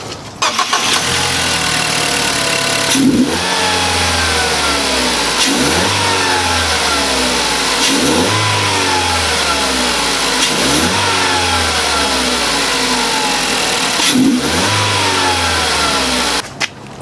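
A Ford Focus engine with a newly installed air filter revs hard again and again, about six surging pulls that rise and drop back, with a faint turbo whine and no talking.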